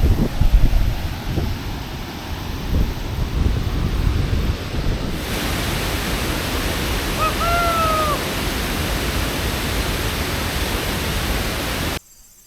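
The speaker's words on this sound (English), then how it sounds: "Definitely a pretty good water flow on that canal." Steady, broadband rush of water flowing in the Hennepin Canal continues throughout, a dense constant roar with no voices, cutting off abruptly at the end.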